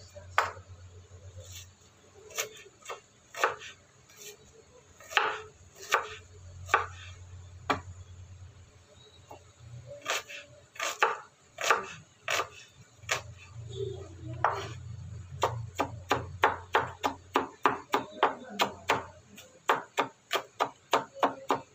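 A knife chops peeled onion for a mango salad on a board, in bursts of sharp, close, rhythmic strikes that speed into a fast, steady run near the end, with a low background hum.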